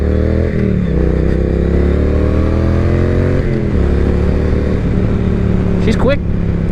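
A 2018 Triumph Street Twin motorcycle pulls away on a normal street, its engine note rising loud and steady through the gear change, with a person talking over the engine.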